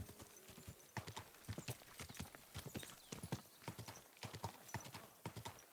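A horse walks slowly through a village in Kingdom Come: Deliverance II, its hooves clip-clopping in a steady, close, continuous rhythm with no voices over it.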